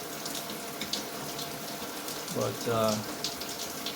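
Mist jets on a Dream Spa LED temperature-sensing shower head hiss with a soft, steady spray, faint and continuous, with a brief spoken word and a short louder gush partway through.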